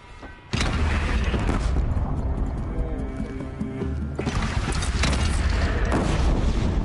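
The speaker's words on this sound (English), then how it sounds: "They only have one cannon!" Cannon fire in the Horizon video game booms loudly, filling the scene with dense, rumbling blasts and roaring noise that swells, eases briefly, then surges again.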